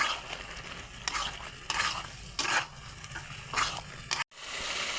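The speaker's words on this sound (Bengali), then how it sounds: "জল দেবো না, একটু কষাবো।" Chicken gizzard and stomach being stir-fried with turmeric and salt, a steady sizzle under repeated scraping strokes of a spatula in the pan, with a brief silent break near the end.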